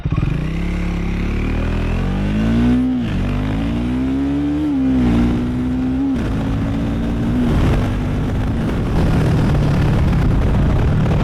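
A Triumph Speed 400 motorcycle accelerates hard from a standing start, its engine note climbing in rising sweeps through several gears, loud and close, then settling into a rougher rumble, with no talking.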